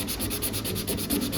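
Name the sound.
sanding primer on a car body panel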